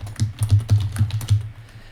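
Someone typing on a computer keyboard while entering a user ID in a coding tutorial, with about six quick, close, clicky keystrokes at an even rhythm and no talk over them.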